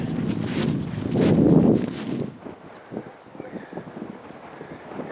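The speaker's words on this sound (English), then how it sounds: "The wind blowing quite heavily, but I can barely hold the camera." Strong, cold winter wind gusts buffet the microphone with a heavy roar for a couple of seconds, then ease into a lighter, steady blowing, on a trail with light snow cover.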